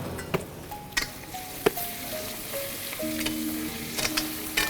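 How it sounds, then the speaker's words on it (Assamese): Pork frying in a pan with spices, giving a steady close sizzle with occasional stirring clicks and scrapes; no one speaks. "গাহৰি মাংসখিনি এতিয়া দিবানে মাংসখিনি অলপ ভাজি লওঁ"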